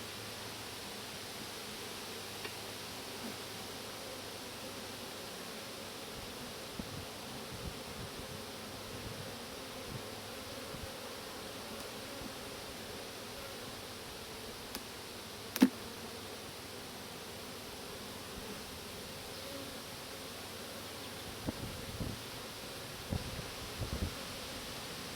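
Honey bees buzz during a summer full hive inspection, a soft steady drone with a faint hiss that runs throughout, and occasional light rustles and clicks from handling the frames.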